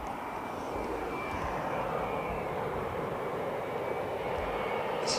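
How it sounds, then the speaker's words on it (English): Steady, broad jet roar from a Boeing 787 Dreamliner at Heathrow Airport, a continuous, fairly loud engine rush that holds level throughout with no voices. "This is your Dreamliner."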